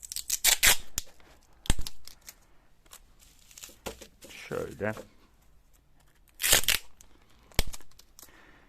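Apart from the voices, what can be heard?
wrapping books in bubble wrap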